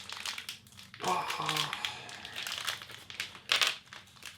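Plastic packaging for keyboard keycaps being peeled and pulled open, a run of close crinkling and crackling rustles with a sharper crunch near the end.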